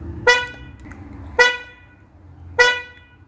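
A car horn newly wired with a relay is tested with three short, loud honks spaced about a second apart, each a bright tone that cuts off cleanly, with faint background noise between.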